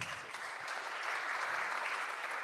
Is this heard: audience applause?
yes